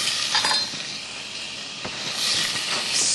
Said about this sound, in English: There we go, for that nice sizzle.